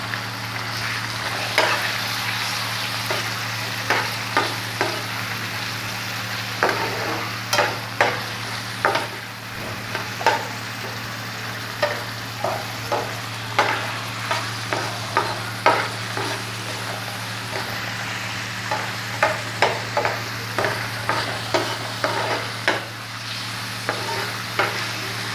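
Chicken liver frying in hot oil, a continuous sizzle punctuated by regular scraping stirs of a spoon in the pan, close and moderately loud, with no talking.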